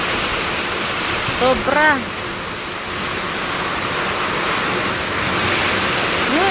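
Super Typhoon Kristine lashes Taal, Batangas with a dense, steady roar of wind and driving rain, loud and unbroken, while a voice briefly calls out over it.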